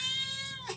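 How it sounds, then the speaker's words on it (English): A domestic cat gives a single clear, close meow, a short tonal cry that rises then bends downward at the end. "Hello, Kitty."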